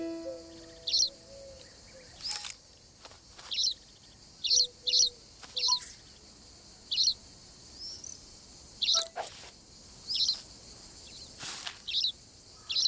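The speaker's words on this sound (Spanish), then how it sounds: "Solo con los pájaros que hay en el comedero." Birds at a feeder in the video game Alba: A Wildlife Adventure give short high chirps, repeated about a dozen times at a fairly steady pace. A few louder clicks and soft background sounds fall between the calls.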